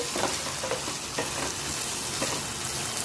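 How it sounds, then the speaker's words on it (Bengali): Potatoes sauté in a pan with a dense, loud, continuous sizzle and a few soft stirring scrapes, no voices. "আলুটা একটু কষানো হয়ে গেছে"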